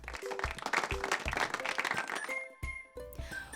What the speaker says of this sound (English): Everyone clapped for Boaz being such a loving helper to his family.